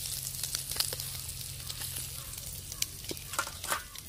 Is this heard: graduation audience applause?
no